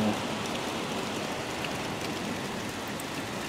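Rain falls steadily at dawn in Burbank, California, a soft, even hiss of drops on surfaces, fairly quiet and continuous with no voices.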